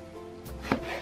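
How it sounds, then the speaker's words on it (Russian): A knife chops eggplant on a cutting board for a Korean-style eggplant salad, giving a single sharp, close chop against a soft background hum. "Сильно широкие места можно даже вот так в двух местах нарезать."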